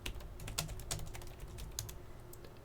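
Keystrokes on a computer keyboard as commands are entered to configure a Cisco Nexus 9000v network switch, a steady run of close, crisp clicks with brief pauses, no voices.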